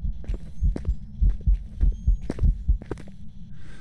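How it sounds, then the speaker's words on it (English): Heartbeat in the ghost-hunting game Phasmophobia: a steady series of deep, close thumping double beats, about two per second, loud and alone for nearly four seconds. "I heard the heartbeat."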